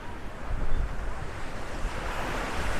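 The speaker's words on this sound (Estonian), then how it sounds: "muidugi praegu on lainetus ka" Sea waves wash steadily onto the shore, a continuous rushing surf with wind buffeting the microphone.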